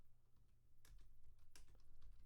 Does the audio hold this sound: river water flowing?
no